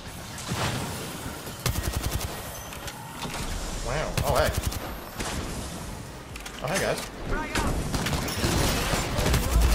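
Rapid bursts of gunfire from an online shooter game, several clipped volleys of close, sharp shots with brief gaps between them, heard alongside game noise and speech.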